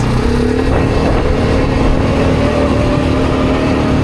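A Bashan 300 quad bike engine pulling a trailer loaded with roughly 600 kg drones steadily and loudly at close range, holding an even, continuous tone throughout with no talking.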